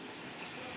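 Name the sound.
steam releasing from pressure cooker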